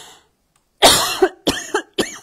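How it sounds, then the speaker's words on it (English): Three harsh, close coughs come in quick bursts after a moment of silence, each followed by a short rasping tail. "didn't mean to cough on you"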